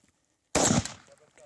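A single loud gunshot rings out at an outdoor shooting session on a reserve in Namibia. It is sharp and close, and a short decaying echo follows.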